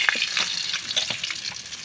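Dried red chilli broken into pieces, bay leaf and cumin seeds fry in hot oil, giving a steady crackling sizzle with small pops and stirring scrapes, close and continuous with no talk.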